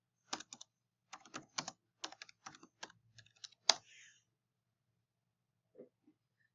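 Typing on a computer keyboard, close and quiet: short clusters of rapid key clicks with brief pauses between them, then a few isolated taps near the end, all in an otherwise silent room.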